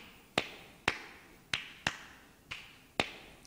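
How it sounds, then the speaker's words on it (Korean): A sampled hand-clap rhythm loops from a Casio WK-240 keyboard: six sharp, evenly spaced claps with short bright tails, moderately loud, with no voices. "이 2번 버튼을 누르면 602번의 박수친 리듬이 나오겠죠?"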